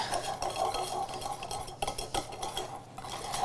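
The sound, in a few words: spatula scraping egg yolk mixture in a saucepan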